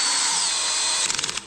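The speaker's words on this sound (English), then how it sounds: "Then there you can see the drill cut out" Cordless power drill spinning out rotor bolts on an Ibis HD6 mountain bike: a steady, close, high whine that breaks near the end into a few rapid clicking bursts as the bit cuts out.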